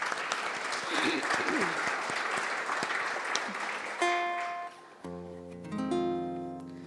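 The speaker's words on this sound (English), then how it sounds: "So I want to give you a round of applause for being here with us tonight." Concert audience applause fills the first four seconds with dense, fairly loud clapping, then fades under sustained tonal instrument notes, likely guitar or keyboard, at an evening music performance.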